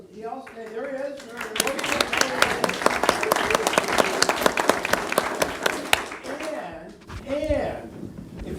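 Applause from attendees at a Portland city work group meeting, honoring the caterer: a few seconds of brisk, fairly close clapping by a modest group, framed by speech before and after.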